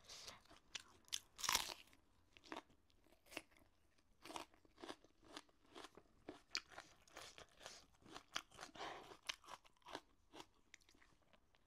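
Close, crisp crunching bites and chewing of spicy raw onion in a mukbang, a steady run of sharp crunches with short gaps, no talking.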